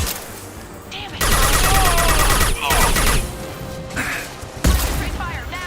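Sustained gunfire in the shooter Mass Effect 2, a dense loud rattle of shots with squad voices calling out over it, pausing briefly and then resuming with a sharp blast near the end.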